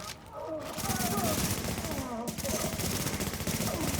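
Rapid bursts of automatic gunfire in a shooter video game, dense loud rattling shots in quick succession with a voice talking beneath.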